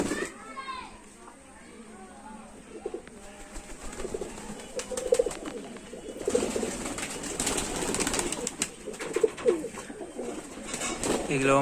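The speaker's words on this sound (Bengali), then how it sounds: "এখানে দুটো পায়রা আছে, তো আপনারা শখ করুন" Royal Teddy pigeons, adults and babies in a loft, coo in soft throaty rolls close by, repeated throughout while someone talks over them and faint children's voices drift in the background.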